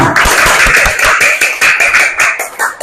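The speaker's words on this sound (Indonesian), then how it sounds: "Tepuk tangan." Classroom of schoolchildren clapping together for a group after its presentation, a dense run of sharp hand claps in uneven rhythm, close and loud, with no voices over it.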